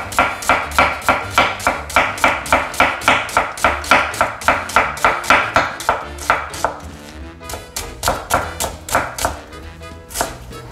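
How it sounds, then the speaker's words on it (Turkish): A knife chops peeled onions into julienne strips on a cutting board for French onion soup, striking in a fast, steady series of crisp close thuds that briefly pause and resume alone. "şöyle ortadan ikiye bölüp direkt jülyen şekilde keseceğiz"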